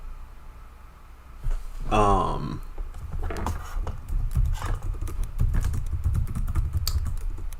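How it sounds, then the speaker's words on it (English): Typing on a computer keyboard during a late-night live gaming stream, rapid clicking keystrokes running steadily under and between a speaking voice. "I don't know why I'm typing"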